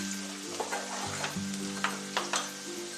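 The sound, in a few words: onions frying in sunflower oil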